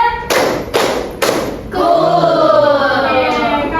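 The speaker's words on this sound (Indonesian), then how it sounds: "Tepuk 1. Satu baik. Tepuk 2. Yes. Tepuk 3." A classroom of students claps a teacher-led pattern: three sharp group claps in a row, then a sustained burst of applause, loud and close, with a voice speaking briefly over it.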